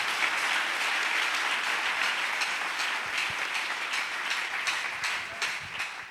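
A church congregation applauding together during a Pentecost worship service, dense sustained clapping from many hands that stays steady for several seconds and tapers slightly toward the end.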